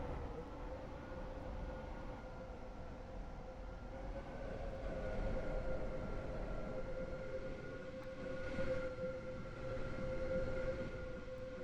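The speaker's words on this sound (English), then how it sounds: "This train has 5 coaches." Train running in the Roblox game Stepford County Railway, a steady continuous rumble with a sustained tonal hum, moderately loud and unbroken, with no talking.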